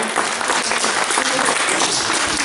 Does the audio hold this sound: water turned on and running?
no